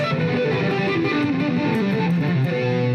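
Dense, distorted two-hand tapping on a high-gain electric guitar with unmuted strings ringing together into a continuous, loud, buzzing wash of overlapping notes and noise.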